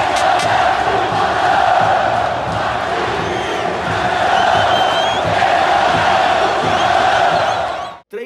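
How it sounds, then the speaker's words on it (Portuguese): Sampaio football supporters in a packed stadium in Maranhão chant and cheer in a loud, continuous roar of massed voices that holds steady, then cuts off abruptly at the end. "Olha só a torcida do Sampaio que foi que disse."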